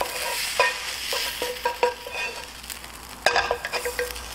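Spanish omelette filling stir-fried with ketchup in a hot pan, a soft steady sizzle broken by repeated scraping and stirring strokes, louder clattering near the end.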